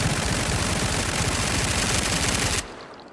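A P90 50-round submachine gun firing full auto on a range in the video game SCP: 5K, a long, dense, loud burst of rapid shots lasting over two seconds before cutting off abruptly.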